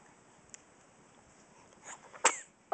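A baby sneezes once, sharp and close, after a few faint sniffs and small breaths in an otherwise quiet room, with a brief start of another noise at the very end.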